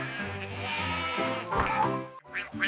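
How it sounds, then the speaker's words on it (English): A sheep lets out a close, steady, wavering bleat, followed by a shorter second call near the end. "Here's the sheep says, B-A-A,"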